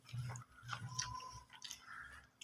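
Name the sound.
chewing while eating fish head with lemon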